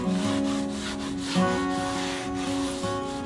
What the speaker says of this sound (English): I'm going to sand it down.